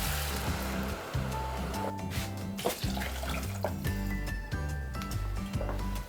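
Two cups of water poured into a pot of rice for Venezuelan white rice, a steady, loud splashing gush with a low rumble that runs unbroken for several seconds.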